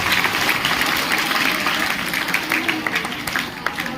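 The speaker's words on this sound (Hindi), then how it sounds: "जोरदार तालियों से उनका स्वागत कीजिए।" Students clap together in a school classroom, their dense applause holding steady at moderate loudness before thinning out slightly toward the end.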